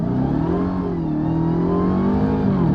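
A supercharged Dodge Charger Hellcat Redeye revs hard and close, its engine roar rising and falling with a steady supercharger whine layered on top throughout.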